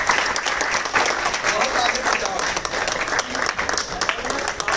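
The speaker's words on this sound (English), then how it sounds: "Please give a round of applause once again." Audience applause after a concert by two young performers, a steady dense wash of clapping from many hands that holds for the whole stretch, with some voices mixed in.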